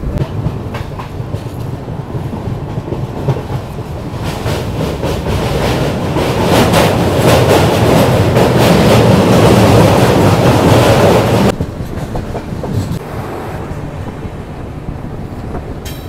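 The 15777 Tourist Express vistadome train runs from NJP toward Alipurduar through the Dooars. A loud, rhythmic rail rumble with clattering wheels swells for several seconds, then drops to a softer, steady roll as the train slows.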